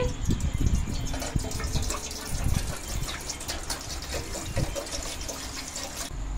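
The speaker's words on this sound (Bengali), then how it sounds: "গামলাতে জল দিয়ে দিচ্ছি।" Water gushes steadily into a basin while cooking momos, a continuous pouring rush with some clatter and faint voice underneath.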